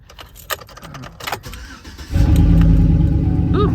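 A car engine in a repair shop cranks and catches after some clicks and rattles, then settles into a loud, steady low rumble at close range, with no speech over it.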